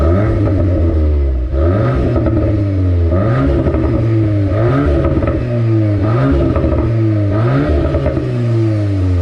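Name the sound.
Volkswagen Golf R Mk8 manual engine revving while driving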